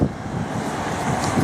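Strong wind roars and buffets the microphone in a steady, rumbling rush with no voices.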